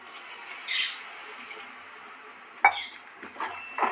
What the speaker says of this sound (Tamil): இப்போ இதுக்கு தேவையான அளவு தண்ணி ஊற்றிக்கலாம்